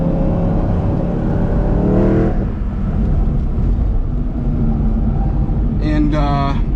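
A tuned BMW E90 M3 runs a cool down lap at Lime Rock with a steady, loud engine drone heard from inside the cabin, with a brief rise in engine tone early on and a short whine near the end.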